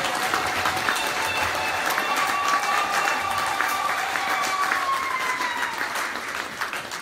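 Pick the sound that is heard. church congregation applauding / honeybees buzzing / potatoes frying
church congregation applauding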